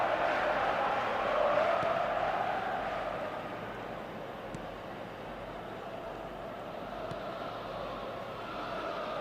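Crowd noise in a video game football match swells in a broad, steady roar, loudest early and then easing slightly, a distant stadium wash with a faint commentator voice.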